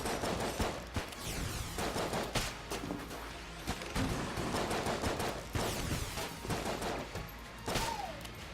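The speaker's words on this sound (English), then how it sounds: "2 shots out of the Magnum will kill a normal enemy." Rapid volleys of Magnum gunshots in Enter the Gungeon, loud sharp cracks firing in quick irregular bursts with dense layered game effects and a brief rising tone near the end.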